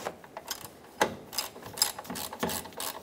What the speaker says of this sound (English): Clamp the nut on. Let's tighten this up.